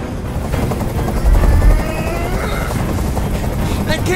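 A hovering helicopter in Detroit: Become Human, its loud continuous rotor and engine drone close overhead with a heavy low-end surge midway, running steadily under the scene's other sounds.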